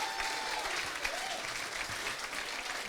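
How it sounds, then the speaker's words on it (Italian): Enthusiastic applause from an audience at a gala and awards ceremony for a national hospitality school competition, dense clapping sustained throughout at a moderate distance. "Un altro applauso, dai."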